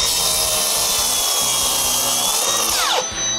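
Flex SMS 190 mitre saw slicing through dry hard oak, a loud, steady high whine of the blade held close for about three seconds, then a falling pitch as the motor spins down at the end.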